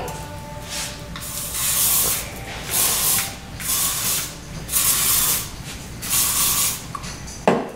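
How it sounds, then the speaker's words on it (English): Infinium hairspray misted onto hair in a salon, a series of about six hissing aerosol bursts, each lasting under a second, close and clear with no talking. "we're going to finish it off with a little bit of the Infinium hairspray"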